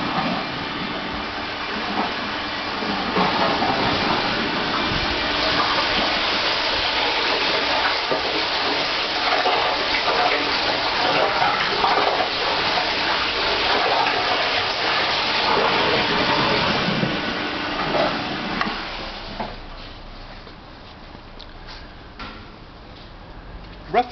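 Wash liquid churns and agitates inside a parts wash tank, a steady broadband rushing wash that holds loud for about twenty seconds before easing off into quieter trickling and faint clicks, with no talk over it.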